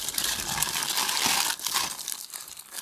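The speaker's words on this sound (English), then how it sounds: "I'm gonna put it right down on the foil" Aluminium foil crinkling loudly and continuously as it is wrapped around a smoked corned beef roast with beef broth, close up, with sharper crackles near the end and no talking.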